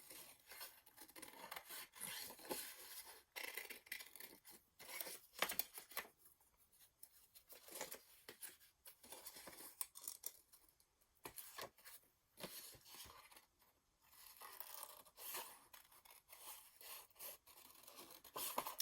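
Scissors cut through paper for a junk journal herb project, making a close, continuous rasping snip and rub in long strokes with brief pauses, and no one speaking.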